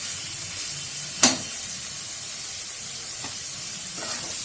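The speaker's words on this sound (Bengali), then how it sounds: "আমি সবগুলো মশলাকে একসাথে এখন ভালো মতো কষিয়ে নেব।" Spices and coriander paste fry in a pan for a small-fish curry, giving a steady close sizzling hiss throughout, with one sharp spatter or stir clank near the start and a couple of softer stirring scrapes later.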